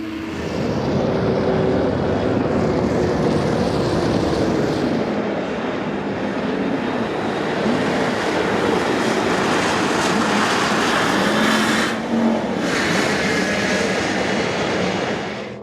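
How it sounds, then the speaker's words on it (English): Three New Zealand turbine jet boats racing in a heat at a world jet boat championship, a loud continuous turbine roar with whining tones that rise and fall as the boats pass, unbroken for the whole stretch. "3 New Zealand turbines battling it out with one another here in this heat race."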